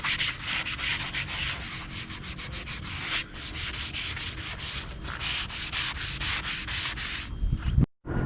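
A Scotch-Brite pad scuffs a wooden boat's varnished surface against the grain in steady, rhythmic back-and-forth strokes, close and continuous with a brief break near the end.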